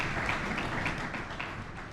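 Conference audience on sexual harassment in the media applauding: a dense, steady wash of many hands clapping, moderately distant and fading slightly over two seconds.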